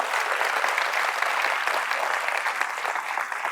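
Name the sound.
audience applause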